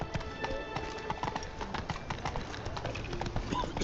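Roach, a horse in The Witcher 3, trots with rhythmic, fairly quick hoofbeats clopping over ground in a game, the steady clip-clop moderately loud against a light background.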